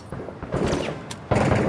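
Gunfire in the video game Six Days in Fallujah, two sharp loud bursts a moment apart with noisy echoing tails, close and heavy in a game mix.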